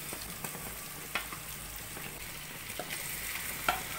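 Marinated chicken frying in a pan with onion, garlic and ginger paste, a soft steady sizzle with scattered crackles and light clicks of stirring, fairly quiet and with no talking.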